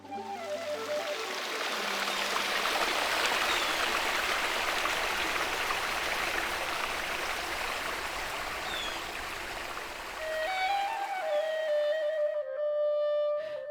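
The Egypt River, a groundwater-fed stream in Ipswich, flows with a steady broadband rush and trickle of water throughout, close and continuous, with faint bird calls near the end as the sound cuts off.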